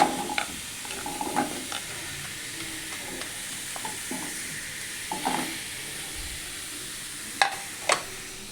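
Grated carrots for carrot halwa sizzle in a hot pan with a soft continuous hiss, broken by scattered stirring scrapes and a couple of sharper knocks near the end, close and unaccompanied by talk.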